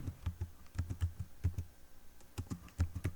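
Fingers type on a computer keyboard in quick, uneven runs of soft clicks with short pauses between them, heard close up and quiet, with no voice.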